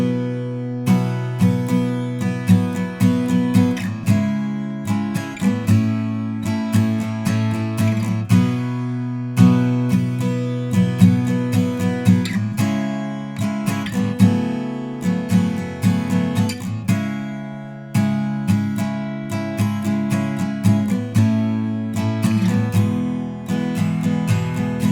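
Acoustic guitar strums the chorus chords of a song in a steady, rhythmic pattern, played close and loud throughout with no voices.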